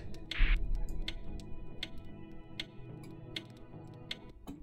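Steady clock ticking from a puzzle room in the co-op game We Were Here Together, crisp ticks at an even beat of roughly one every 0.8 seconds, alone over a low background hum.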